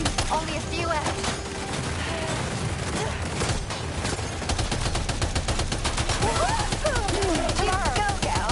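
Rapid gunfire in Death Stranding 2 combat crackles in dense bursts and volleys, close and loud, with a voice speaking intermittently over the shooting.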